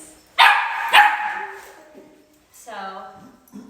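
Dogs bark in two sharp bursts during play at a dog training session, followed by a higher yip or whine, with a person talking in the background.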